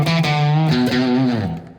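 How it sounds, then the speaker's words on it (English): Electric guitar played through a Strymon Flint reverb pedal, a couple of sustained chords ringing out with a lush, distorted shimmer before a reverb tail fades away at the end. "It gives you an ability to have a really cool, high-quality reverb sound."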